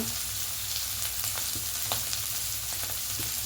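Ground spices (salt, cumin, coriander, chilli and turmeric) sizzle steadily in hot oil in a pan while being stir-fried as filling for stuffed bitter gourd, a continuous close frying hiss with occasional stirring clicks and no talking.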